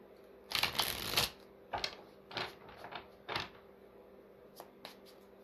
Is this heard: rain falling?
no